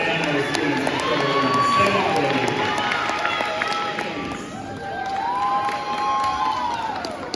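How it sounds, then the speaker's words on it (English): Applause and cheering at a school honors ceremony for seventh grade honorees: a crowd claps while voices whoop and shout, with children's high cheering calls rising and falling over the steady clapping. "round of applause for our seventh grade."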